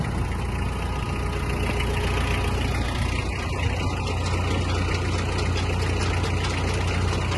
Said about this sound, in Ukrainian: Так, фреза працює тихо і стабільно.